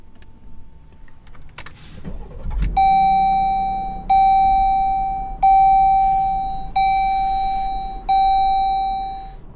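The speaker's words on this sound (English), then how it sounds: "And let's go ahead and start it up. You have push button start." A 2022 Jeep Grand Cherokee Overland's push-button start. A click and soft thumps come first, then a loud, clear electronic chime sounds four times in an even rhythm, each tone fading slowly before the next.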